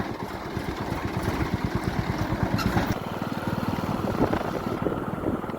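A Sonalika tractor pulling a zero drill machine drives along toward a village, its engine giving a steady rhythmic throb at moderate distance, slightly quieter in the second half.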